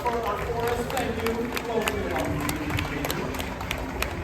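An outdoor bird show crowd at Walt Disney World applauds after a bird's flight, a broad spread of clapping heard at a distance and running steadily throughout, with a voice talking over it.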